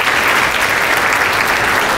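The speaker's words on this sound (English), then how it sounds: "Let's give her a round of applause." Dense, steady applause from a seated audience at a realtor economic forecast event, continuous and fairly loud throughout without any talk over it.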